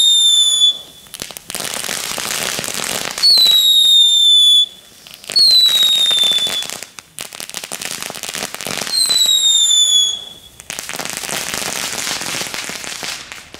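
Knetterkings firecrackers from Aldi crackle in long, loud, dense bursts of sharp pops, with shrill descending whistles cutting in at intervals.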